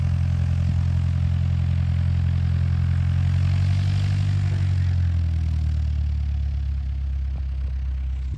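A propeller airplane at the small Vernon airport, its engine droning steadily and fairly close for several seconds before easing slightly toward the end.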